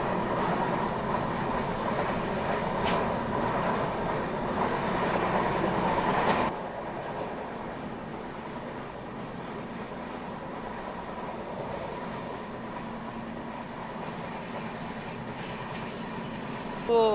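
Indian Railways' Bharat Gaurav tourist train rolls along with a steady rumble and rattle of wheels on track, louder at first, then quieter after a sudden drop, with faint squeals near the end.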